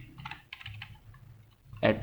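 Quick bursts of clicking on a computer keyboard, a few short typing runs separated by pauses, close and clear, ending in a sharper louder key press.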